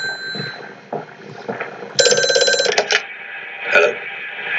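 An old telephone rings in the horror game Amnesia: A Machine for Pigs, a loud, bright mechanical bell burst lasting about a second, then a shorter second ring, after quieter game sounds.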